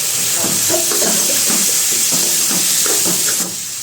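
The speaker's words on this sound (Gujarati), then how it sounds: "હવે આપણે જે સુરતી પાપડી અને ચોરી લીધી છે એ ધોઈને આમાં નાખી દઈશું" Washed Surti papdi beans and chori go into a hot pan, setting off a loud, steady watery hiss and sizzle that carries on throughout, then drops sharply at the very end.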